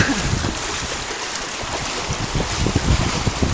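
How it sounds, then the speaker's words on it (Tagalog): Strong floodwater waves surging during a nighttime flood, a dense, loud roar of churning water with heavy wind buffeting the microphone and low thumps of water slapping, continuous throughout. "Ayan po, gano'ng kalakas ang alon."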